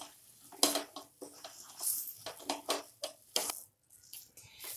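Sattu stuffing with tomato and fresh coriander being stirred in a pan off the heat: soft, uneven scraping and squishing strokes in quick succession, close and fairly quiet.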